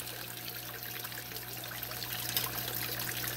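Water trickles steadily from the waterfall filter of a home aquarium tank, a soft continuous splashing over a constant low pump hum, close and even throughout.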